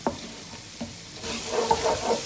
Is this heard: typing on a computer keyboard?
no